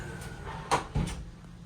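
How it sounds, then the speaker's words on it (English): Sliding glass doors in a 2024 Forest River Sierra 3800RK fifth wheel RV slide and bump shut, two close, fairly loud knocks a quarter second apart with a brief rattle, no talking. "So we're going to shut the doors shut."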